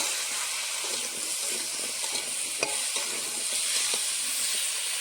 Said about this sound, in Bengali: হলুদগুলো দিয়ে ভালো করে আলুটা ভেজে নেব